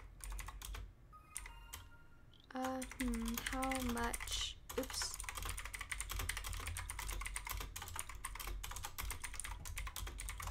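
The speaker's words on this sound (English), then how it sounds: "Keyboard ASMR." Rapid, steady clatter of a computer keyboard being typed on up close, continuing throughout, with a brief spoken voice near the start.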